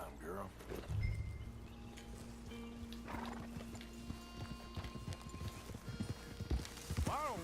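Horse hooves clip-clop on the ground in the video game Red Dead Redemption 2, an irregular walking rhythm heard under game music, with a short whinny and characters talking over it.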